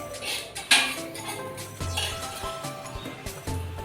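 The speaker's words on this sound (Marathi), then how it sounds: "आपण हे आता प्लेटीमध्ये काढून घेऊया गॅस बंद करते मी" A rava (semolina) omelette slid from a pan onto a plate, with sharp metal clinks and scrapes of a spatula against the cookware, a few close clanks over faint kitchen noise.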